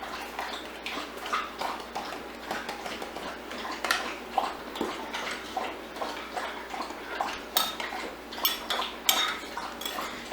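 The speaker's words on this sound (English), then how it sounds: "Stir it in with your sugar and your water." Spoon stirring dry yeast with sugar and water in a bowl makes quick, close, irregular clinks and scrapes against the bowl, a steady run of small metallic ticks with no talking.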